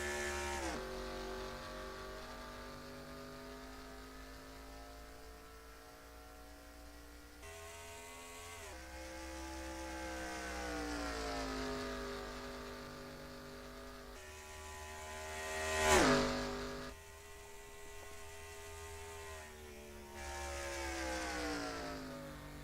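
Stock cars in a racing video game accelerate at the start of the Sonic 400 at Kansas, with engine tones climbing and shifting through gears repeatedly, a rising whine peaking midway, steady and moderately loud.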